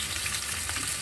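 Chopped onion frying in oil over a cumin tempering makes a continuous close hiss and crackle, short and steady, with no one talking.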